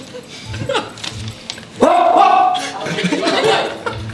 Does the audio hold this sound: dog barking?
yes